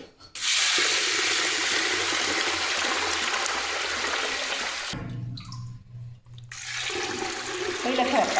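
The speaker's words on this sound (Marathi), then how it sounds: "आता मी यात पाणी घालते" Water pours steadily onto a kilo of sago pearls in a container, a continuous rushing splash that briefly dips and trickles before picking up again.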